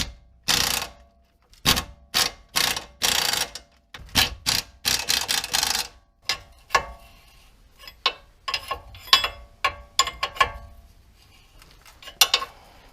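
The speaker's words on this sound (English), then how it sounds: "So I'll tighten up these 3 on the bottom, and then I'll work on this castle nut and get it tightened up." Close ratchet clicks in short bursts and quick strokes as a wrench tightens the lower ball joint bolts and castle nut on a Toyota Corolla during a suspension repair, with metallic tool handling between them.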